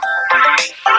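A mobile phone ringtone plays loud and close in a village home, a bright synthetic melody sounding on its own in short repeating bursts.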